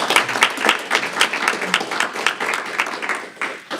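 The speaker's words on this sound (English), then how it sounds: "let's give a round of applause" After a marketing pitch at a university competition, the audience breaks into applause, steady crowd clapping that fades toward the end.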